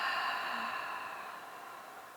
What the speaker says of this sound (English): Exhale it out the mouth